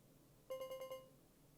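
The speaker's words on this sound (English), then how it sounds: "There's a phone that no one's fucking answering again." A telephone rings in the video game Deadly Premonition 2, a burst of five rapid electronic trills that clearly stand alone against a quiet background, then stop.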